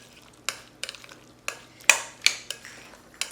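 Spoon strokes scrape and clink against a bowl as chicken salad with Greek yoghurt, quartered red grapes and celery is mixed, about eight separate close mixing sounds spaced roughly every half second with quiet between.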